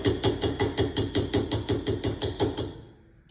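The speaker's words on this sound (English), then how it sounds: "Just try to tap it in there gently." Steel sleeve being tapped into a 1958 Plymouth steering column with a hammer: about fourteen sharp, evenly spaced metallic blows, close and loud, then a short pause and one final strike.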